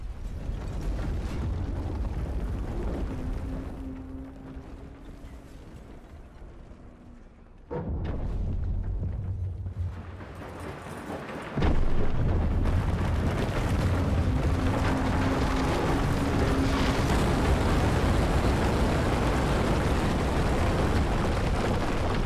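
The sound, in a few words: explosions destroying posts in video game Battlefield 4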